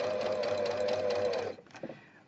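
A sewing machine stitches steadily in a fast, close, continuous whir for about a second and a half, then stops, leaving a few soft handling clicks.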